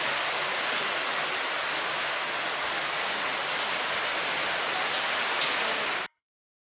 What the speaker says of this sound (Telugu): సో హైదరాబాద్లో రెయిన్స్ ఎక్కువ పడుతున్నాయి కదా.